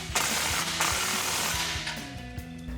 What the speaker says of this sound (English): And then we'll grab our 15mm socket to tighten down our clamp.